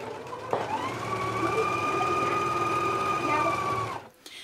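A sewing machine runs steadily for about three and a half seconds, stitching the shoulder seams of a McCall's 7575 garment. It gives a close, even motor whine that starts abruptly and then stops.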